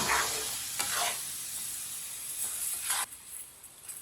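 Peach murabba cooking with sugar in a pot over a medium flame, being stirred; a continuous bubbling sizzle with scraping strokes of the spoon swelling and fading, close and moderately loud, no voices.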